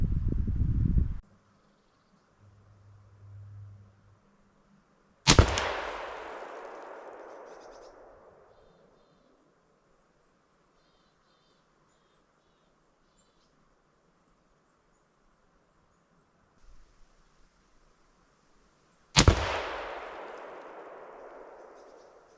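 Two sharp, loud rifle shots from a .308 Win hunting cartridge in a forest, each a sudden crack followed by a long decaying rumble, spaced well apart with quiet between.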